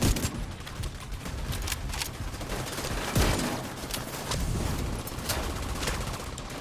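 Rapid, loud bursts of gunfire from a sawed-off shotgun in The Division 2, a dense fusillade of overlapping shots with one especially heavy blast partway through and no talking.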